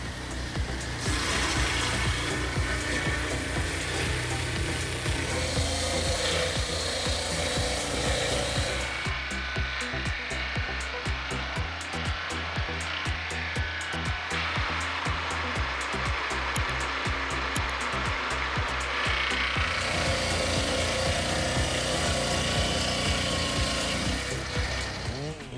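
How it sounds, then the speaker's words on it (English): A high-speed saw cuts through aged wood parts, giving a continuous dense rasping grind that stays loud and steady for the whole stretch, with a coarser, choppier middle section. "This saw is built with high speed and precision, easily and quickly processing aged wood parts"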